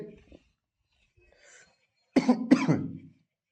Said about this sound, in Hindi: यार बड़ी खांसी आ रही भाई